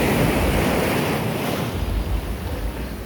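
Caribbean Sea waves wash onto the shore amid steady wind, a broad, loud roar of surf with gusty microphone buffeting and no voices.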